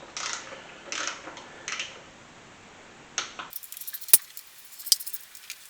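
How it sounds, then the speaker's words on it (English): Small metallic clicks and rattles from a hand ratchet torquing the cover bolts on a motor being reassembled, up close: a softer fumbling stretch, then a sharper series of separate clicks in the second half. "we'll just work our way from the inside out and torque these to 89"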